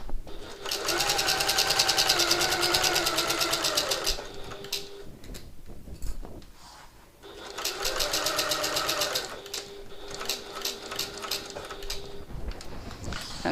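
A sewing machine runs a steady, fast stitching burst with red thread through black faux leather, pauses briefly, then starts again for a second long run around the edges of a hobo bag, close and loud.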